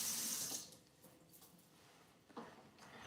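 Tap water runs into a sink while lemons are washed: a loud, steady splashing stream at the start that fades into a quieter trickle, with a brief louder splash near the end.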